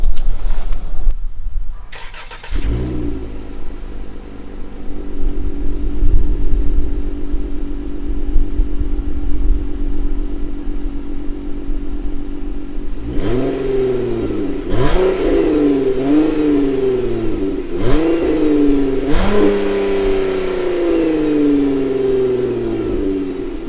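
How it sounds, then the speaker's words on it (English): A 2015 Dodge Grand Caravan van engine cranks and starts, settles into a steady idle, then pulls away with several rising revs as it accelerates through gear changes, close and loud. "Alright, so now we're in the van and we're going to take it for a drive"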